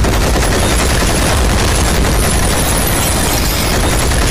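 Machine gun fire from a Bengali action film teaser for Toofan rattles in a dense, loud, continuous barrage of rapid shots, with booming impacts mixed into the clatter and no voices.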